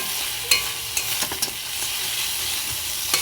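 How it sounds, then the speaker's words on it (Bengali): Ginger garlic paste fries with onions in a wok for a pumpkin and egg dish, with a steady sizzle broken by several sharp scraping knocks of the stirring utensil, close and without voices. "দিয়ে এটাকে ভালো করে ভাজা ভাজা করে নেব"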